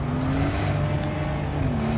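A Mercedes-AMG SL65 accelerates hard from a rolling start in first gear, its engine droning loudly and steadily up in pitch, heard close from inside the car.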